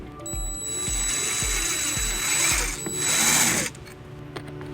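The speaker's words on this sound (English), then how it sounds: "we're just going to use a 3/16 drill bit" A power drill with a 3/16 bit whirs steadily while boring through a bracket on a 2006 Toyota Highlander, with rhythmic low knocks underneath and a rising grinding burst before it stops.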